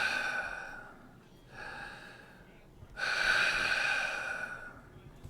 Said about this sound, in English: Just a breathing sound again.